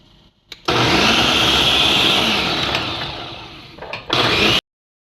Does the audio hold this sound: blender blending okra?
yes